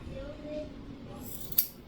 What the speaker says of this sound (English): Now this is super long, so I'm going to go ahead and cut some off.